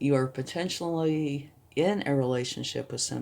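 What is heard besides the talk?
No everyday noise stands out behind the speech.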